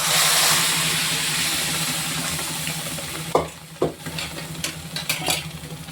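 Tempering of spices poured into cooked moong dal with bottle gourd in a pan, sizzling steadily throughout with a few sharp splattering pops and clinks near the end, close by with no talk.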